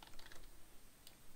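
Typing on a computer keyboard, quick light key clicks in short bursts, fairly quiet and close, with no talking.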